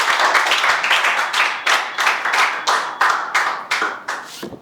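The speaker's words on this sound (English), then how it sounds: "Why there is so unsymmetrical clap everyone?" A class claps unevenly for a speaker, a loose run of individual hand claps with uneven rhythm that fades, swells and drifts apart, loud and close throughout with no talk over it.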